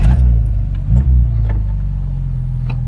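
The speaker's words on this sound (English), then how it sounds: "Let's start the engine." A Fiat X1/9 mid-engine car idles close by after starting, a loud low rumble with a couple of small revs near the start, heard from inside the car.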